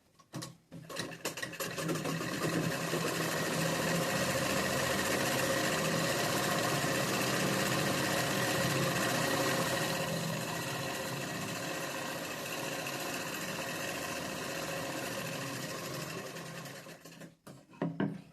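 Electric sewing machine stitching along the edge of a chudi top, a steady loud whirring hum running continuously for most of the stretch before stopping near the end.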